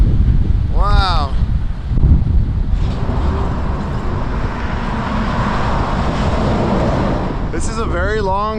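Strong wind roars across a very long bridge with a bike path, a loud continuous blustery rush buffeting the microphone, with brief voices and passing traffic near the start and end.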